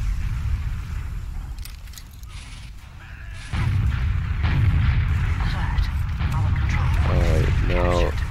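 In a first-person shooter, a sticky grenade bursts with a deep boom amid ongoing gunfire, rumbling and chaotic game noise, while someone talks over the action.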